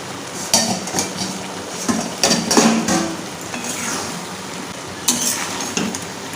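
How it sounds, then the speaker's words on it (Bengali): A lid comes off a cooking pot of banana stem with shrimp, pumpkin and potato: a few sharp metallic clanks and rattles sound close by, separated by quiet gaps. "বন্ধুরা, এবার আমি ঢাকনাটা খুলছি।"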